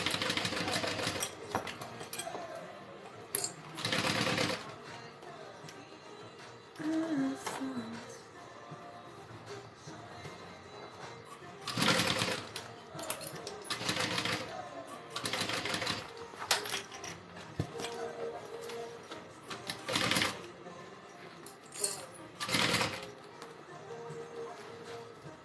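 A sewing machine stitches a Denver backpack in repeated runs of steady mechanical whirring, separated by brief pauses and louder bursts, close up with faint background noise.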